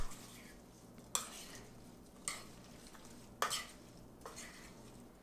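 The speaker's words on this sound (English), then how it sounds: "go ahead and mix it up. Just give it a nice little toss." Fruit salad tossed and mixed in a bowl, giving quiet, periodic scraping swooshes, four or five separate tosses about a second apart, with no voice over them.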